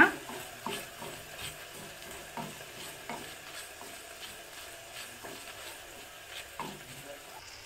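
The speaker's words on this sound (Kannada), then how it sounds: "ನೆಕ್ಸ್ಟು ಒಣಮೆಣಸು, 2 ಒಣಮೆಣಸನ್ನು ತಗೊಂಡಿದ್ದೀನಿ ನಾನು. ಮಸಾಲೆನ ಚೆನ್ನಾಗಿ ಹುರ್ಕೊಳ್ಳೋಣ." Two dry red chillies and spices roast in a pan for a traditional huli, with a soft, steady sizzle and repeated light scraping strokes of a spoon stirring, close and fairly quiet, with no talk.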